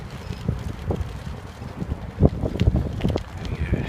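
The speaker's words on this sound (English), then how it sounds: "It's quite windy." Gusts of strong UK wind buffet the microphone in irregular low thumps and rumbles, rising and falling over a few seconds with no talking.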